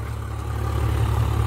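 A Swaraj 855 tractor engine idles beside a paddy field, a low steady throbbing rumble that swells slightly louder over the brief span.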